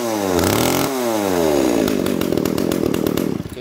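A Japanese used 33cc gasoline chainsaw fires up after a pull start and runs loud and close, its engine pitch rising as it revs, then settling into a rough, rapidly pulsing high idle.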